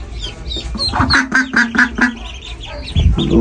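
A mother duck with her newly hatched ducklings quacks in a quick, close run of about five loud, evenly spaced calls, followed by quieter fowl noises.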